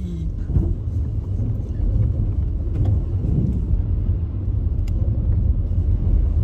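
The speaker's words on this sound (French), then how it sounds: "Allez, voiture, on est parti." A Ford car with an automatic gearbox pulls away in the rain, its engine a steady low rumble that fills the whole stretch, with faint patter and no speech over it.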